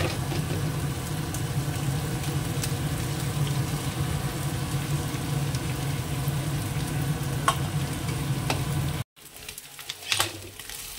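A cracked egg fries in a pan beside already fried ingredients, a steady close sizzle with faint crackles, then a brief cut near the end followed by quieter sizzling and a small clatter.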